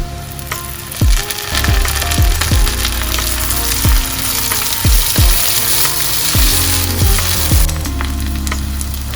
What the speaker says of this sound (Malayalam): ഇത് നിർത്താതെ ഇളക്കി കൊടുക്കണം കേട്ടോ. മീഡിയം ഫ്ലെയിമിലാണ് വെച്ചിരിക്കുന്നത്.